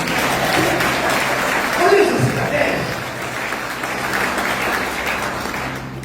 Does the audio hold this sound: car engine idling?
no